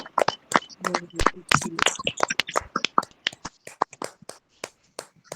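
Sharp hand claps from a congregation at an intercessory prayer meeting, irregular and uneven, mixed with voices at first and then a run of crisp separate claps.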